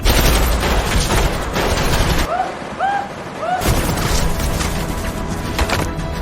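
Gunfire in a film action scene, with dense bursts of shots and booming impacts packed into a loud, continuous barrage that drops briefly before the shooting resumes.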